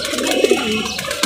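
Pigeons cooing up close, a soft run of low throaty coos with two brief louder notes partway through, with no talking.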